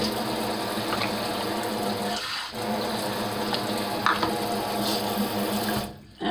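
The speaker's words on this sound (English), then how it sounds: "And I just give it a stir" Oats and water are stirred in a crock pot, a continuous wet swishing and sloshing that holds fairly steady, with a brief pause partway through and a sudden drop near the end.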